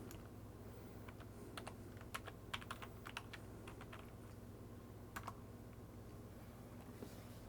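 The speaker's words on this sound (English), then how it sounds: "so I can put in my password." Keys on a computer keyboard tapped in an irregular run while entering a Windows login password at a PC build bench, soft close clicks with short pauses, over a steady low hum from the machine.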